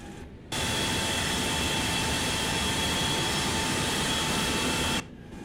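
Engine start on a Boeing 727-200 in a flight simulator game: a loud, steady turbine roar with a constant high whine, cutting in abruptly, holding level for about four and a half seconds, then stopping sharply, with no talking.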